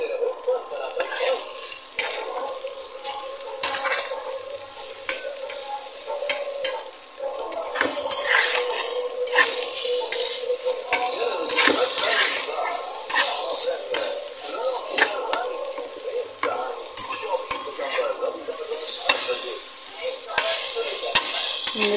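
Egg and potato curry with garam masala being stir-fried on an induction cooker, a steady sizzle with repeated scraping and stirring strokes throughout, close and fairly loud.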